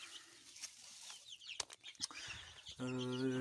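Marans hens in a coop give scattered soft clucks and short calls with a few quick rustles, then one drawn-out, tonal squawk rises clearly near the end. The sounds are fairly close, with no talking.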